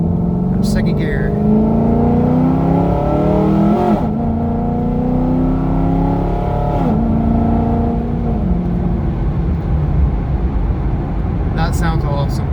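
A 2013 Chevrolet Camaro SS convertible with a new exhaust accelerates hard in second gear, its loud, steady engine note rising in pitch and then stepping down. A voice can be heard over the engine.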